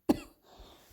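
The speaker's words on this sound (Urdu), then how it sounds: "بس یہ کھانسی جو ہے نا کبھی کبھی واپس آ جاتی ہے" A woman's single sharp cough, close and loud, followed by a short quieter rasp and then faint low sounds.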